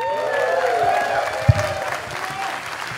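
Applause from a stand-up comedy roast audience, a dense patter of clapping with a cheer rising over it and some murmuring voices.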